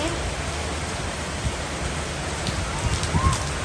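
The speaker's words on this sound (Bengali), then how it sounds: "বাইরে অনেক বৃষ্টি হচ্ছে আজকে।" Heavy rain falls outside during a family trip to Cox's Bazar, a steady broadband hiss that stays even and continuous throughout, with a few faint voices underneath.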